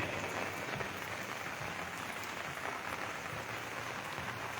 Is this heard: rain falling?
yes